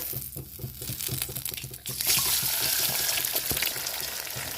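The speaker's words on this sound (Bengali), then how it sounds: "ডিমটাকে ঝুড়ি করে ভেজে নেব, গুঁড়ো গুঁড়ো করে।" Egg sizzles loudly in hot oil in a wok with a pinch of salt while being stirred and broken into crumbly scrambled bits, the frying crackle swelling and then holding steady with scraping stir sounds.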